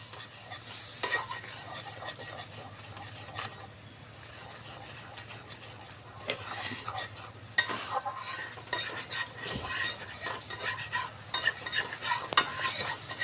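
Spices being sautéed in a pan for a spicy pangas fish bhuna, a steady sizzle broken by repeated scraping and stirring clatter of a utensil against the pan, close and fairly loud, with no talking.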